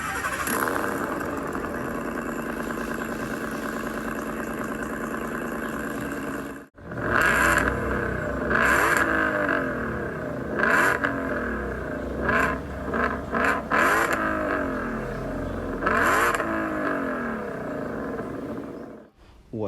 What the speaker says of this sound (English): What you just heard is the sound of the Predator V8,